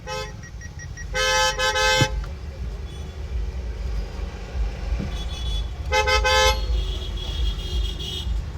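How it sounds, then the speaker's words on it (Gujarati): A car horn blares twice in long, loud blasts a few seconds apart over a low traffic rumble. "હોર્ન માર ના આને"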